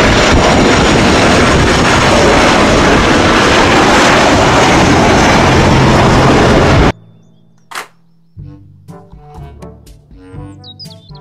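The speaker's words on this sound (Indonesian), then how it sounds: "Pesawat terbang." Airplane roar, a loud steady broadband rush of engine and wind up close, cutting off abruptly to near quiet with scattered tones.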